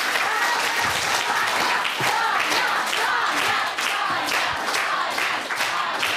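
Dense, sustained studio audience applause at a televised quiz show, mixed with crowd cheering and chanting; loud and close, filling the whole stretch without pause.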